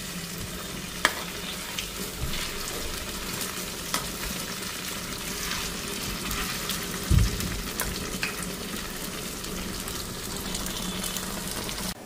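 Beguni, eggplant slices coated in a semolina and flour batter, fry in hot oil with a soft, continuous sizzle and bubbling. An occasional clink of a utensil breaks through, and there is no talk.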